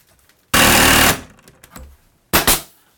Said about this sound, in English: I'm just gonna shoot 18 gauge brads into the stool